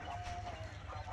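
A few soft clucks from an Aseel chicken let out of its coop over a steady low rumble, with a faint thin tone running through the first half.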